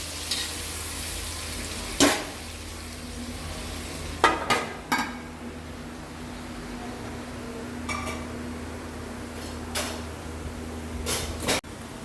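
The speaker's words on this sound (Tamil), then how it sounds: "வெங்காயம் நல்லா வதங்கட்டும். மூடி போட்டு கூட வதக்கிக்கலாம்." Onions sautéing in a pan for mutton biryani make a low, steady sizzle, punctuated by sharp clanks and scrapes of a spoon or lid against the vessel, close by.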